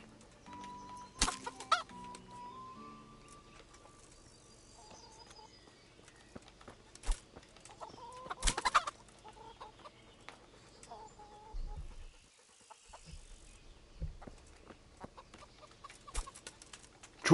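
Chickens cluck sporadically in the game Kingdom Come Deliverance, short squawks and flurries of flapping wings standing out at intervals over a quiet background.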